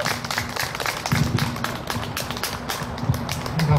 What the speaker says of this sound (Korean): 자 용두산 에너지 자 박수 한번 크게 해주세요.